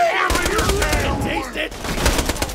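Gunfire in Borderlands 2 rattles off in rapid close bursts, sharp repeated shots layered with whooshing and combat effects and a voice speaking partway through.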